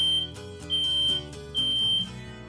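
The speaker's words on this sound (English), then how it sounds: "That's a regular smoke alarm sound." A regular smoke alarm shrills with a piercing high tone in repeated bursts, alongside a low rhythmic buzzing pulse from a vibrating alarm for the deaf, loud and close.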